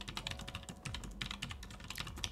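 Brisk, close typing on a mechanical keyboard fitted with KLH brown tactile switches, a dense run of crisp keystroke clicks with no voices.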